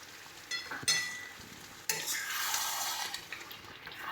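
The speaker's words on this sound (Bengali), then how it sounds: "টক দইটা দিয়ে ভালো করে মিশিয়ে নেব।" A spoon stirs chicken with tomato paste and yogurt in a pan, giving soft wet scraping and a low sizzle with a few sharper clinks, faint and close.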